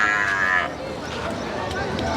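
At a buffalo market in Erragadda, Hyderabad, a buffalo or calf lets out a short moo at the start, followed by a steady background murmur of the busy market.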